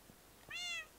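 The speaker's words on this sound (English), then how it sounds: "Yeah, cats." A single short meow from a cat in the Minecraft video game, clear and alone against a quiet background.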